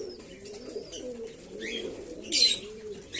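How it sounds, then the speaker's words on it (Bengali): Two male pigeons, one a newly adult cock, fight and coo, their low throaty rolling coos running steadily under a burst of flapping and scuffling near the end, close and moderately loud. "দুটো নর পায়রা বলে মারামারি শুরু"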